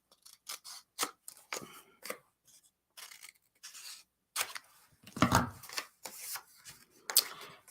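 Scissors trimming paper for cardmaking, a run of close, quiet snips and crisp cutting strokes in uneven rhythm, with soft paper rustling between cuts.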